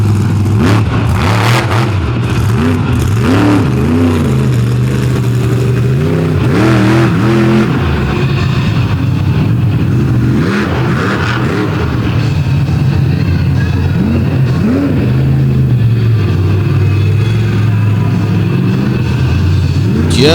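A monster truck engine revs hard and continuously at an outlaw monster truck drag race, a loud, rising and falling roar that fills the whole stretch with no break.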